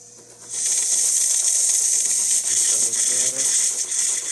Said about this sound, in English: There is some steam in the system, so there is the hot water.